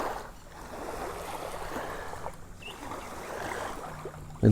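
Water flowing outdoors at sunrise makes a soft, steady rushing wash that swells and dips gently, fairly faint and with no voices.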